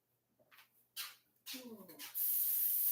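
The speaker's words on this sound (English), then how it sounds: "I'm going to spray this pan really nicely" Cooking spray sprayed onto a baking pan in a home kitchen: a few short hissing bursts, then a longer steady spray, close and fairly quiet.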